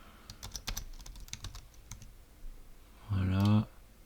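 Keyboard typing at a PC while filling in the fields of a teacher account sign-up form, a quick run of close, light key clicks over about three seconds, followed by a brief voiced sound.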